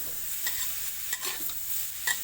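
Crab stir-fried with curry powder in a pan, a soft background sizzle broken by a few sharp scraping clacks of a spatula stirring, close by and fairly quiet.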